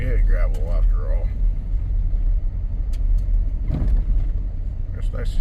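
An off-road vehicle driving on a gravel road in eastern Washington, giving a steady, loud, close rumble of engine and tyres on loose stones throughout, with a voice speaking over it at the start.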